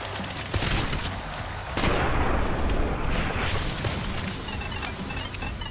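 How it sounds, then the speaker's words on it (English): An explosion in the video game Slaycation Paradise gives a loud, noisy blast with crackling bursts, then a sustained rumbling wash that slowly fades over several seconds. "The explosion from that took all of them out."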